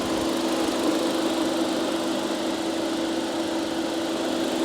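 A 2019 Toyota Voxy car engine running at idle, a steady even hum with a faint tonal drone, close and constant with no talk.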